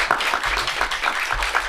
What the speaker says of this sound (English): it's my great honour to give him a round of applause to encourage him